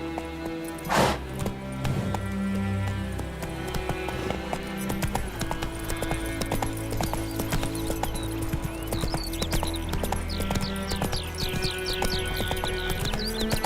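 Horse hooves gallop in The Witcher 3, a steady rapid clip-clop running throughout, close and moderately loud, with a brief whinny near the start.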